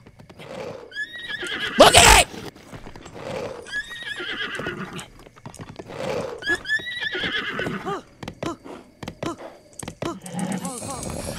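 Horse from the game Zelda Breath of the Wild neighing and whinnying several times amid clip-clopping hooves, with a loud burst early on, while a person talks excitedly over it.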